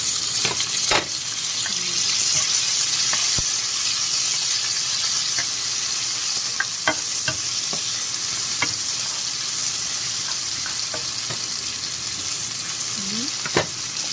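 Onions and tomato fry in a pan for a vegetable dish with a constant close sizzle, broken by sharp clicks and scrapes of a spatula stirring at irregular moments.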